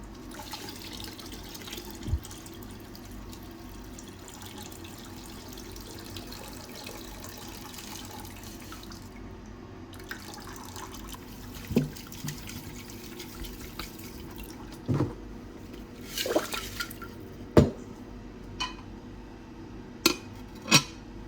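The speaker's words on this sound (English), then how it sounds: "Here I'm using hot distilled water to rinse the pure silver off over and over until I get all of the electrolyte off of there." Hot distilled water rinsing freshly harvested pure silver crystals from an electrolytic silver cell, washing off electrolyte: a soft steady pour with scattered sharp clinks and drips from the container, growing busier toward the end.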